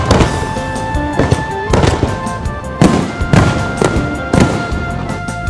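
New Year's Eve fireworks at a lakeside in Vietnam, a loud run of sharp bursts and booming cracks about every half second to a second, with crackling between them.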